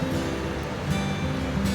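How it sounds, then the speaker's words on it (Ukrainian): The lower waterfalls in Rochester give a continuous, loud rushing roar of falling water close by, broad and steady with only slight swells. "Тепер тут внизу, на нижніх водограях, водоспадах у Рочестері."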